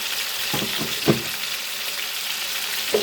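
Chicken pieces for an Eid-style chicken roast sizzle steadily in a hot pan, with a few louder crackles and spatters rising over the continuous frying hiss.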